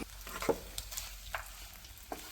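A spoon stirs kesari in a pan, giving a few soft scrapes and light taps over a faint sizzle, close and fairly quiet, with no talk.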